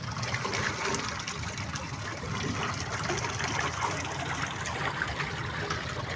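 Water streaming steadily along an irrigation channel where aquatic plants float, a continuous broadband rush and trickle at moderate level with no pauses and no voices.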